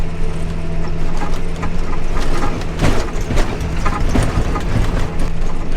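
A tractor rattles and rumbles along a badly rough country road, a steady loud engine drone with jolting thumps and clanks from the bumps throughout.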